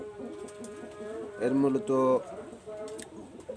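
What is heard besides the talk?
high-flying Teddy pigeons cooing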